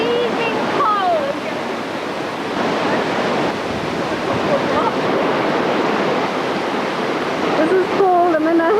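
Broad, constant rushing of the Jordan River's shallow headwaters at Kibbutz Tel Dan fills the whole span, loud and close, with a few faint high chirps or voices over the flow.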